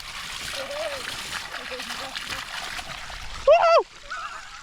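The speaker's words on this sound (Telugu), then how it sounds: "Water hand wash." Water splashes and spatters as hands are washed on a Sunday outing near Yadagirigutta. The close, uneven splashing continues under nearby chatter, and one voice rises loudly near the end.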